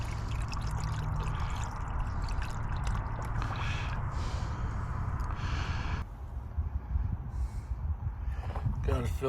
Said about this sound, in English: let's top up the radiator